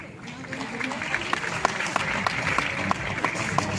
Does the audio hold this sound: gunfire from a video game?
no